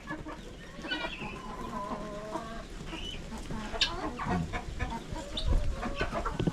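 Several chickens cluck and chatter in a steady, overlapping stream, with a few sharper calls rising above the flock.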